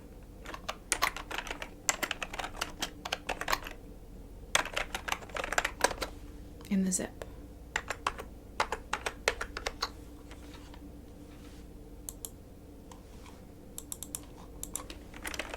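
Keyboard typing at a call-center desk, bursts of quick close keystrokes in irregular runs with pauses between, soft and intimate, with a brief murmured voice in the middle.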